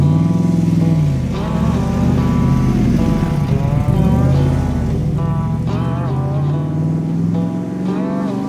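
A Superformance Shelby Cobra MkIIIR with a 7.3-liter Godzilla V8 roars loudly and close throughout, its deep rumble swelling and easing as the revs rise and fall, with no one speaking.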